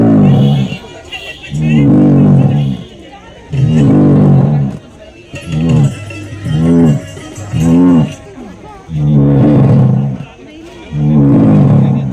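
Musical instruments imitating animal and bird calls, including a lion's roar, sound as loud, drawn-out growling bursts in a repeated rhythm, about eight strong roars separated by short pauses.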